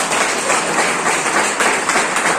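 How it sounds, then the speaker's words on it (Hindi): A crowd claps loudly and steadily, a dense burst of applause filling the whole moment with no speech. "बाबूजी की एक बार जोरदार तालियां"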